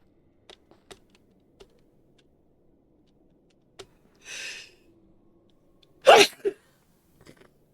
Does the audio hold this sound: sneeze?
yes